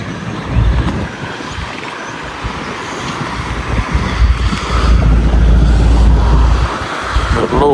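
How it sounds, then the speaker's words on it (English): Strong wind buffeting the microphone beside a 1977 Chevrolet C20 truck on the road, a loud continuous low rumble that builds and stays heavy, with no talking. "This wind still ain't let up any."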